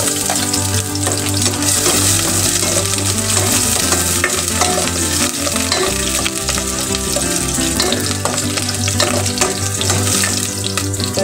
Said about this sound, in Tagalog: igisa natin yung ating sibuyas.